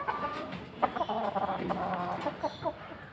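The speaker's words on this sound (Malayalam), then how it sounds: "ഇത് നാടൻ കോഴിയാണ്. ഇതെല്ലാം പിന്നെ കരിങ്കോഴികളാണ്." Native country hens and black-feathered Karinkozhi hens in a backyard coop in Mayyanad, Kollam, clucking nearby in a short, busy run of overlapping cackles and chortles, moderately loud, with no talking.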